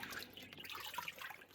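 Water runs and drips into a sink while old 1920s frock coats are washed in a small farmhouse, a faint, uneven trickle with light splashes throughout.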